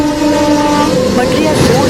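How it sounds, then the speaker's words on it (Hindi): A loud, sustained train horn blast with steady tones and a rumbling background, partly overlapped by a voice speaking Hindi. "उसी समय दूर से किसी ट्रेन का हॉर्न सुनाई दिया।"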